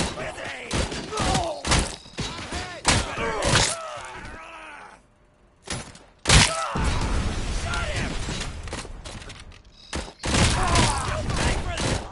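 Grenade explosions and gunfire in a Robocop Rogue City firefight, a run of heavy blasts and thuds with a brief lull midway, then loud sustained rumble, mixed with voices and groans.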